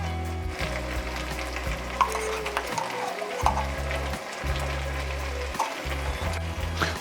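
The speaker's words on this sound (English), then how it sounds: "Stir all that up to coat everything." Tomato paste stirred into a sizzling pot of braised beef short rib stew, giving a steady close frying hiss with scraping, stirring strokes and no talking.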